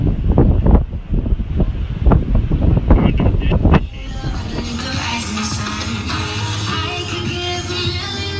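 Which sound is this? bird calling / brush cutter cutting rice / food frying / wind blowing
wind blowing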